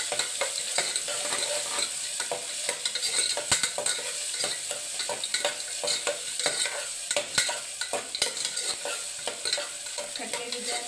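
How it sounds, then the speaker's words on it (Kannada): Onions frying in hot oil in a pan for homemade chitranna, a continuous close sizzle punctuated by frequent sharp spatula clicks and scrapes against the pan, with no talking. "ದೊಡ್ಡ ಸೈಜ್ ಅಂದರೆ ಒಂದು 2 ಈರುಳ್ಳಿ ಹಾಕಿ ಚೆನ್ನಾಗಿ ಫ್ರೈ ಮಾಡ್ಕೊಳ್ತೀನಿ"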